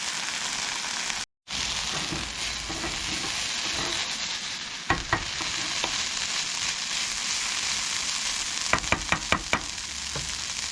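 Onions stir-fry in sauce in a pan for beef and broccoli, a continuous close sizzle with a brief dropout and a quick burst of spatula clacks near the end, without speech.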